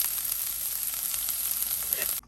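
Cabbage is stirred into a hot pan with fried urad dal, giving a steady hiss and sizzle close by that runs without a break and cuts off sharply at the very end.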